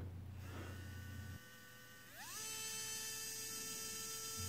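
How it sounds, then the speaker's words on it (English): A small electric drill press for drilling circuit boards whirs at high speed, pauses briefly, then spins up again with a rising whine, close and steady. "thanks to its high speed, it works fine for drilling PCBs"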